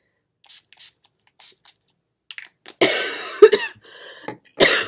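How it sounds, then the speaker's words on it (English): A few short hisses of facial priming spray, then several louder bursts of spraying close by, separated by brief pauses and soft handling noises. "I'm just going to spray my face with that"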